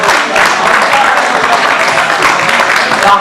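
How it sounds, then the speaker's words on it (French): Audience applause at a Congolese fashion and couture show in Kinshasa, dense sustained clapping at close range, loud and steady with crowd noise mixed in. "Lâchez les téléphones et applaudissez."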